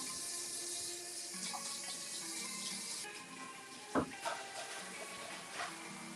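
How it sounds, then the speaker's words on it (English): Tap water runs steadily into a sink for the first few seconds while hands are washed, then the flow stops, leaving a few brief knocks and clatters nearby. "Gotta wash my hands one more time"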